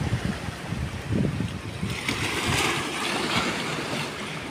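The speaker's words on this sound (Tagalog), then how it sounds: "Ayan, the splash waves." Waves wash and splash onto the shore in a steady, fairly loud rush of surf, with no voices.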